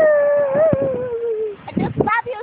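A native Mississippi dog howls in a long, wavering, close tone that slowly falls, followed by shorter yelping whines, with some background noise mixed in.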